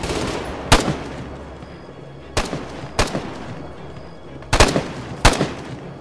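Gunfire along a trench line in the military shooter Arma 3: five sharp, separate shots spaced a second or two apart over a faint background rumble, moderately distant and unaccompanied by talk.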